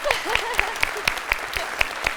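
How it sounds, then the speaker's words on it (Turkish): Applause on a children's quiz show in a TV studio, many hands clapping steadily under a regular beat of sharp, bright accents, with brief vocal sounds mixed in. "Alkışlıyoruz buradan"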